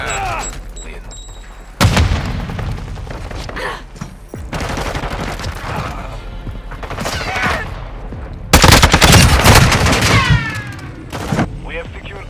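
Heavy gunfire in a Call of Duty: Modern Warfare 2 10v10 Moshpit multiplayer match: loud, overlapping bursts of rifle fire and booming shots, with a sharp, intense flurry near the end and occasional voices in between.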